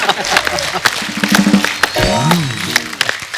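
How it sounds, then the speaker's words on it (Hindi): A short burst of clapping from an audience rises under voices and musical tones, with scattered sharp claps in quick succession. "तालियां"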